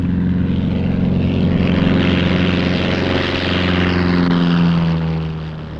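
A propeller airplane takes off in a 15 mph crosswind from the right, its engine a loud, steady droning roar with strong tonal hum that holds close for several seconds before easing slightly at the end.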